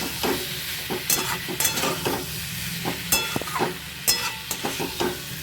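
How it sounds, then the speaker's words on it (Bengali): Spice masala being stir-fried in a pan while cooking a vegetarian potato, pointed gourd and pumpkin curry, with a steady sizzle broken by repeated sharp scraping strokes of a spatula, close and alone. "মশলাটা আমি একটু কষিয়ে নিচ্ছি"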